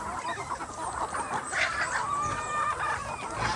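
Chickens clucking on a small farm that also keeps turkeys and geese, several birds murmuring and clucking close by in a steady, busy chorus.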